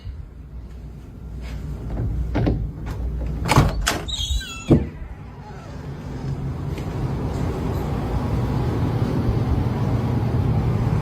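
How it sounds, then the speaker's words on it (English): A door is opened in a quiet room amid a tense, eerie scene, giving a few sharp knocks and creaks and a brief squeal near the start, then a steady low rumble carrying on alone. "I'm gonna open this door and it's gonna stop."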